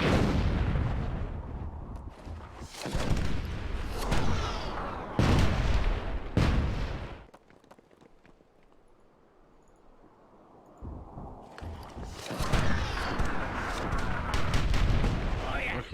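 Cannon fire in the video game Myth II: Soulblighter, a series of loud booming blasts in quick bursts, then a quieter lull before more heavy firing and battle noise resumes.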